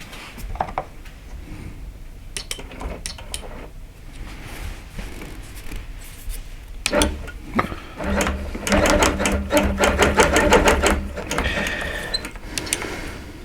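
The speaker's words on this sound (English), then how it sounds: "I have the IntelliQuilter on manual mode. I have white thread in, and I'm going to start doing some stitching." An IntelliQuilter quilting machine stitches with white thread in manual mode, giving a close, rapid mechanical clatter that starts in uneven bursts and settles into a steady, louder run of stitching.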